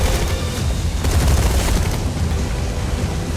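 Dense, continuous volleys of infantry gunfire and booming impacts from a real-time strategy battle in Tempest Rising, loud and sustained throughout with no pauses.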